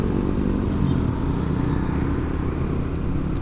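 Honda Beat Street scooter on a road test ride at dusk, a close continuous buzzing engine drone with wind rush, steady throughout and unaccompanied by talk.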